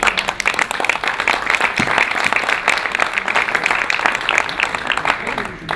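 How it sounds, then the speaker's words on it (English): A roomful of people applaud the Secretary General at a breakfast briefing, continuous crowded clapping holding at a steady, fairly loud level for several seconds. "Let's give the Secretary General a round of applause for his leadership as well."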